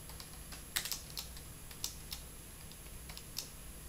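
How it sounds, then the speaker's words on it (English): Light, scattered keystrokes tap on an HP Compaq DC7800p computer keyboard, quiet and close, with uneven pauses between clicks. "Let's try typing something."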